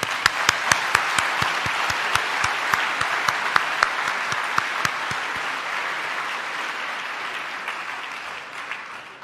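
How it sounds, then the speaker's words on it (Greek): An audience claps loudly for Hellenic Red Cross volunteers at a ceremony in the Zappeion, Athens. The applause is sustained and dense, with a few sharp, evenly spaced claps standing out early before the sound gradually thins. "ένα πρώτο δυνατό χειροκρότημα παρακαλώ για αυτούς"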